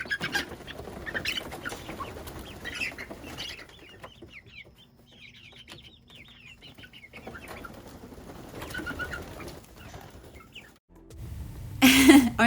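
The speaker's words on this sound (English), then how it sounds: "next you're going to see a clip of my real-life chicken coop" Chickens in a backyard coop cluck and chirp softly at a distance, with a few wing flaps and a loud rustling burst near the end.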